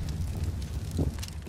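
In the CS:GO video game, fire burns with a steady, dense roar and rumble, broad and continuous throughout, with a slightly louder flare partway through and no voices heard.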